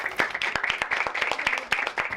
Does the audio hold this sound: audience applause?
yes